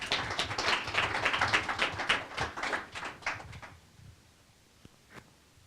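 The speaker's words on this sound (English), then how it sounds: "So give yourself a round of applause" Audience applause at a panel discussion on media in Chicago, a burst of clapping that thins and fades out after a few seconds, leaving a couple of isolated claps in the quiet.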